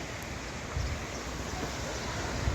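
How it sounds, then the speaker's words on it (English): Calm sea waves on Catalan Bay beach in Gibraltar, heard as a steady, soft wash of surf mixed with gusty wind noise on the microphone. "Sea's lovely and blue there, sounds very calm."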